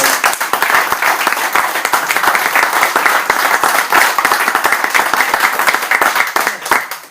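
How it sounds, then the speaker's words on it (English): A crowd at a festival launch gives a loud, sustained round of applause, many hands clapping densely and close, with no talk over it. "give her a round of applause for that"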